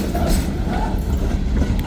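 A freight train of tanker cars rolls past close by, a steady loud rumble with rhythmic clattering of wheels over rail joints throughout.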